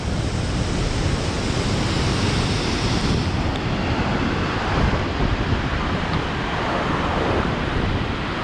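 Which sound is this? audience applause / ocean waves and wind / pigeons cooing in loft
ocean waves and wind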